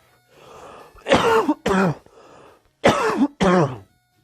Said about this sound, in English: Sorry, I probably coughed right into the microphone, didn't I?